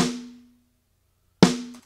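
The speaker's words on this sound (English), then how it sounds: "And here's the close mic of the snare." Close-miked snare drum from the Dr. Bob Killer Kit, struck twice: each crisp, loud hit has a tight crack and a short tonal ring that fades quickly, heard alone.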